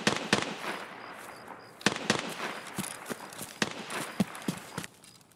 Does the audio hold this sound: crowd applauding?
no